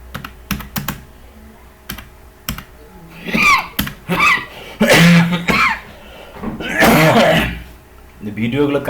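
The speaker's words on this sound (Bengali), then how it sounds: "ভিডিওগুলো কাশিও আসে, তাই না?" Several harsh coughs and throat clearing, loud and close, break up steady clicking on a computer keyboard during a live HTML form class.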